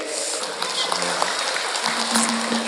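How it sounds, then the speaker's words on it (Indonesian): An audience applauds the Banjari team at an Isra Mi'raj religious gathering, with dense, continuous clapping at moderate loudness and a faint tone and voices blending in beneath. "tepuk tangan tim Banjari"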